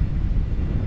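A brief, loud gust of wind buffets the microphone with a deep rumbling roar near Schliersee.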